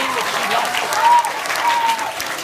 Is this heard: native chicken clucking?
no